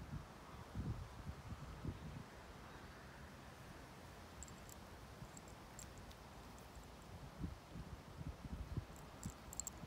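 Wind blowing outdoors during a stormy walk, a steady low rush with gusty microphone buffeting and rustling, faint high chirps now and then, no talking.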